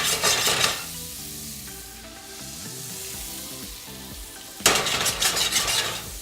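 Butter and bacon fat foaming in a pan, with loud bursts of sizzling at the start and end and a softer stretch in between, close and crackling.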